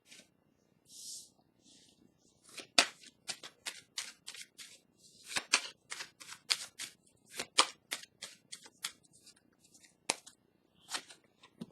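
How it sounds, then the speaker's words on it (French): Tarot cards are shuffled and drawn in a quiet room, making a series of close, crisp riffles and sharp snaps in irregular bursts, with short pauses between them. "Je vais piger une carte ici pour déposer sur la carte de l'ombre."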